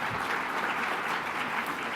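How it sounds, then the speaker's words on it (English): Steady audience applause filling the room, dense and continuous for the whole stretch, with no voices rising above it. "Always a clap when someone talks about giving up."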